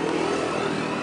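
Brief, fairly faint motorcycle engine running steadily nearby, a continuous buzzy drone with no voices over it.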